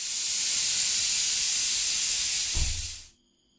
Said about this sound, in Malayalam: ഇനി നമ്മൾ ജാറിൽ വറുത്തത് ജാറിലിട്ടിട്ട് ഒന്ന് ഗ്രൈൻഡ് ചെയ്തെടുക്കുകയാണ്